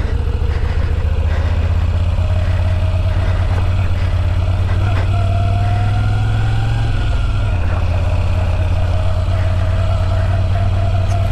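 A Moto Guzzi V7 Stone V-twin motorcycle engine runs steadily with a loud, deep low-pitched throb throughout, the pitch rising briefly as it revs, heard up close alongside wind and road noise, with no talking.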